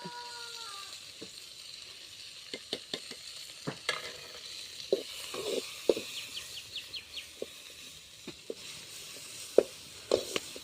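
Sliced onion and about six crushed garlic cloves sautéing in a pan for a vegetable gravy: a faint, steady sizzle broken by scattered ladle clicks and scrapes, with light chirping in the background.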